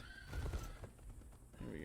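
A horse in the video game ATLAS, stuck among trees, lets out a whinny with hoof clatter around it, close and fairly clear, with game sounds continuing after it fades.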